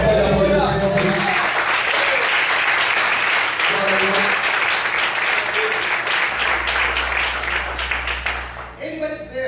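A church congregation applauds loudly and steadily for several seconds, a dense wash of clapping that swells after a preacher's speech and fades near the end as his voice returns.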